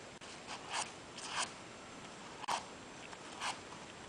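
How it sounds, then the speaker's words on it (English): Quiet, brief brushing swipes of paper chrysanthemum petals drawn along a scissor blade to curl them, four or five short strokes spaced about a second apart, close and alone. "pull the petals with the scissors."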